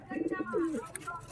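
An agitated, aggressive Pakistani high-flying pigeon, a red-tailed bird held in hand, gives a brief, soft, close coo in a quick run of throaty pulses followed by a drawn-out note.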